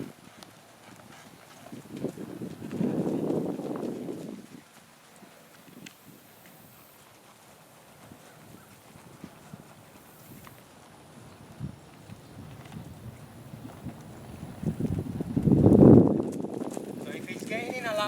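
A horse's hooves clip-clop during groundwork handling, with two heavier bursts of hoofbeats standing out against a quiet background while a person talks.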